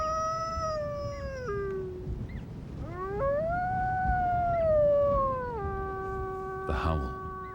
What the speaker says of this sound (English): The howl.